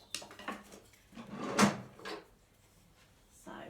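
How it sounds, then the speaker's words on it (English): Kitchen drawer opened close by to fetch a wooden spoon, a few soft slides and clunks with one louder rattle in the middle, otherwise quiet. "I'm just going to get my wooden spoon out of the drawer"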